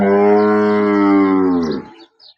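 A single cow at a farm in Banaskantha, Gujarat, gives one long, loud, close moo that holds steady and then drops away, with no talk over it.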